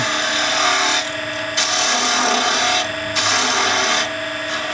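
A wood lathe spins a workpiece while a tool shapes a dibber, giving a loud, close, continuous rasping scrape that swells in repeated bursts as the cutter bites.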